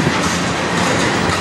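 Close and loud, a CN train thunders by on the Strathroy Sub rails in Sarnia, Ontario, a continuous broadband rumble of wheels clattering over track with no talk.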